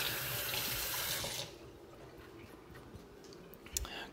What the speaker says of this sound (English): Wash my hand again because I touched the spatula.